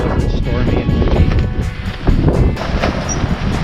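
Ozark Trail Flex Ridge tent fabric snapping and rustling hard in gusty wind, with bursts of buffeting noise rising and falling close to the microphone.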